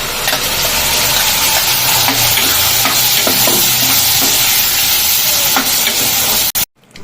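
Continuous loud sizzle of a paste hitting onions already browned red in hot oil, with stirring scrapes and crackle throughout, cut off abruptly near the end.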